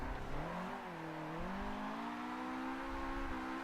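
A Nissan S15 drifting in Forza 7 revs hard, its engine pitch dipping briefly before climbing and holding high in a sustained, fairly quiet whine, with no voices over it.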